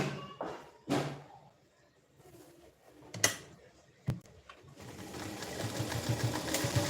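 Sewing machine stitching a 34-size prince-cut blouse, running in short bursts with a few sharp knocks between, then a steady continuous whir near the end.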